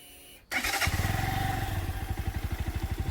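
A 2019 Lexmoto Assault motorcycle fires up on the starter after a brief crank, then settles into a steady, rapid idle thump close to the microphone with no talking.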